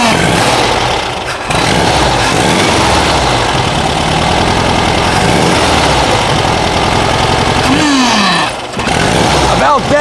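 A supercharged 1600cc VW engine with an AMR500 supercharger, in a Karmann Ghia or Beetle, runs loud and near in a continuous rough drone. It briefly dips twice, then picks back up as it is revved.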